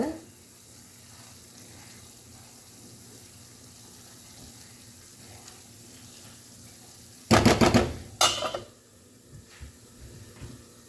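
Vegetables cook in a pan with a faint, steady simmering hiss, then a few louder clattering bursts close by near the end.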